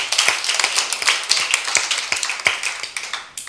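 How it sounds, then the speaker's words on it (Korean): A church congregation at a Sunday service claps together, loud, dense and rhythmic, sustained for several seconds. "우리 하나님께 영광의 박수 올려드리겠습니다"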